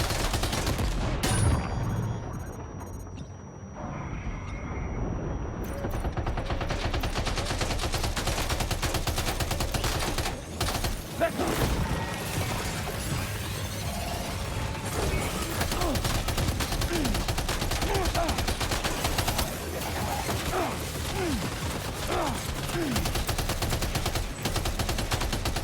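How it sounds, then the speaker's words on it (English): Sustained machine gun fire against ghost mechs in Death Stranding 2, loud dense bursts running almost without pause for the whole stretch, with a voice talking faintly underneath. "Is it just the machine guns better than the rifle for them?"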